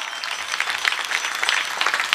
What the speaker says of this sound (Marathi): वाजवा टाळ्या जरा जोरात वाजवा